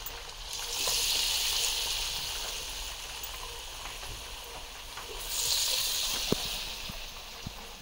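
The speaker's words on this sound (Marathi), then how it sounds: "आता आजी आहे ना बटाटा भाजी सोडते बघा." Potato fritters (bhaji) frying in hot oil over a wood-fired stove, a steady sizzle and hiss that swells twice, with a few soft clicks and knocks near the end, no one speaking.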